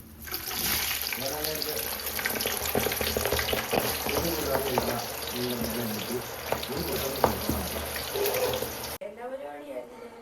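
Oil sizzles and crackles steadily as jackfruit chips fry, with a voice talking over it and occasional stirring or scraping.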